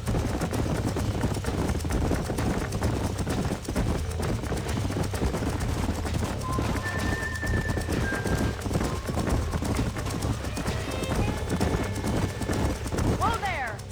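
Horses clip-clopping steadily at a trot in the Western game Red Dead Redemption, hooves continuous and fairly close over ambient noise, with brief whinny-like tones partway through.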